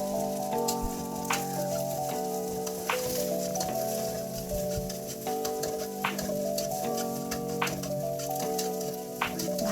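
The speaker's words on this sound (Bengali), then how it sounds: "ডিমটা যখন একটু শক্ত হয়ে আসবে, তখন আমি এটা খুন্তি দিয়ে একটু নেড়ে স্ক্রাম্বল করে নিব।" Egg scrambled with a spatula in a pan for sausage fried rice, a steady close sizzle like light rain with occasional soft scrapes and ticks of the spatula, over faint background music.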